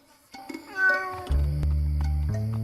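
A cat gives a single rising meow, then a low steady hum of music or room sound continues beneath.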